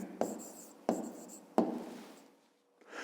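Pen writing an answer by hand on paper: three short scratchy strokes at steady intervals, close and quiet, followed by a brief pause and a faint rustle at the end.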